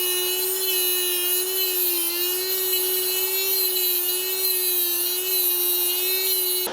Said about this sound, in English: You just kind of shove it in the hole, and then you turn it on, and as the Dremel is running